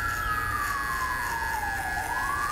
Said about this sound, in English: You can't film with sirens?